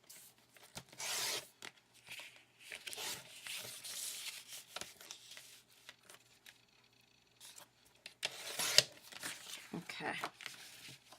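Card stock being trimmed along a line for an A2 card, giving soft, intermittent scraping and rubbing strokes at close range with quiet pauses between passes, faint and fairly delicate.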